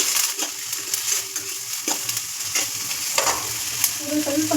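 Chopped garlic, ginger, onion and capsicum sizzle steadily in hot oil while being stir-fried for restaurant-style spicy mushroom Manchurian, with a few sharp metallic clinks of the spatula against the pan; close and continuous.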